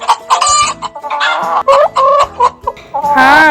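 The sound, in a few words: chickens clucking while eating rice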